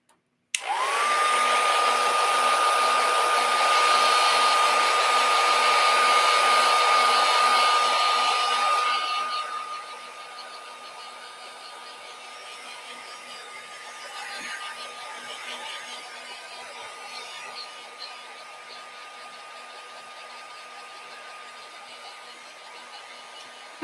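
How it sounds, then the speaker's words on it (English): A heat tool blows loudly and steadily while heat-setting a transfer onto a craft tag, a constant whirring hiss with a high whine that drops to a quieter, softer airflow partway through and keeps running to the end, with no talking. "I'm going to heat set this."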